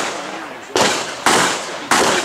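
Three sharp, loud gunshots at an outdoor shooting range ring out at uneven intervals, each a sudden broadband crack followed by a decaying echo, with faint talk in the background.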